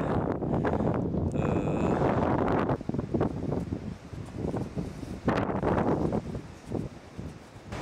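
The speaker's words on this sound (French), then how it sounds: "Comme vous pouvez l'entendre, il y a beaucoup de vent." Strong wind in the Vosges mountains, loud gusty buffeting against the microphone that rises and falls in waves, with rustling foliage and no talk.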